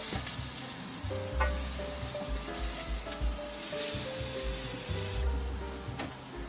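Chopped onion sizzling softly in a frying pan while being stirred, with a steady quiet crackle and occasional scraping rubs of the utensil against the pan.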